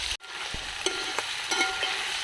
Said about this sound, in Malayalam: എണ്ണ ചൂടായിട്ടുണ്ട്. നമുക്കിതൊക്കെ അങ്ങോട്ട് ഓരോന്നായിട്ട് അങ്ങോട്ട് ഇട്ട് കൊടുക്കാം കേട്ടോ.